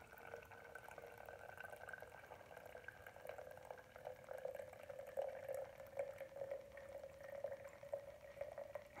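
Water drains slowly through a Brita filter pitcher, a soft, faint trickle with a steady gurgling tone that grows slightly more prominent toward the end, with no voices.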